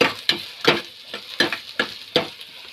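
Chana dal frying in a pan while a spoon stirs it, giving about six sharp scraping, sizzling bursts at a steady rhythm, close and fairly loud.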